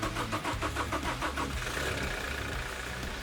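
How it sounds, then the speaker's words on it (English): A Toyota Hilux 2.8 1GD diesel engine cranks with a quick, rhythmic chugging for a second or so, then catches and settles into a steady, rumbling idle. "Now with the engine back together, it is started and inspected."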